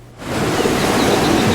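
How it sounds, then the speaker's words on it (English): Ocean waves play as a sound effect, fading up from near silence into a loud, steady wash of surf that holds constant to the end. "Ocean."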